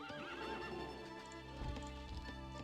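Light cavalry horses neigh and whinny in a strategy video game, with several rising-and-falling whinnies over steady hoof clip-clop and battle noise, loud and continuous throughout.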